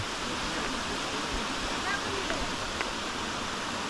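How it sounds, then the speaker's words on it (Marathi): Water rushes in a steady, even roar from a nearby village waterfall and flowing river, a continuous hiss of flowing water with no breaks. "आणि हा इकडनं धबधबा येतो वरतून तिकडनं बघा वॉटरफॉल इकडे बघा नदी वाहते"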